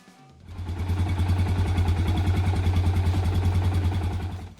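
Yamaha DT350 two-stroke enduro motorcycle engine starting up and then running steadily with a loud, even, throbbing beat that holds for several seconds before easing off at the end.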